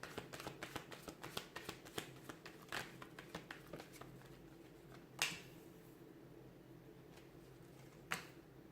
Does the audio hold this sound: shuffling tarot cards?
yes